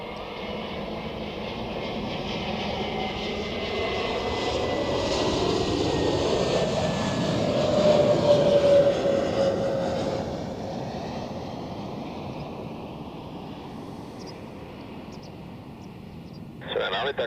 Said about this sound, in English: we could see now the Turkish A321neo